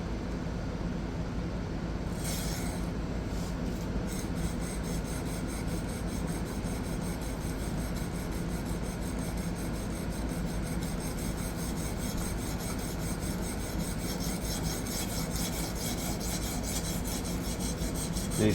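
A blade held in a Xarilk Y clamp on a Gen 3 Hapstone or TSProf fixed-angle sharpener scrapes across fast-cutting stones in a continuous, even rasping rub with faint higher scratches, and no one talks.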